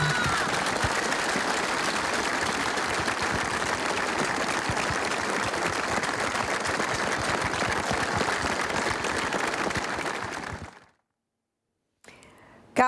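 Mourners applaud outdoors at a young girl's funeral as white and blue balloons are released, long steady clapping from a crowd that fades out, then a short silence and a brief return of sound.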